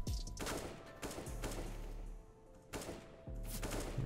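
Gunshots in a CS2 headshot-only deathmatch, with sharp single shots and short pairs of reports spaced about a second apart, fairly faint with quiet gaps between them.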